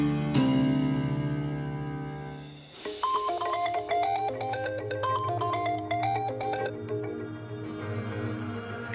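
A phone ringtone from a Hindi TV drama rings out as a melodic electronic tune, starting after a short sustained tone and repeating in bright, steady bursts close by.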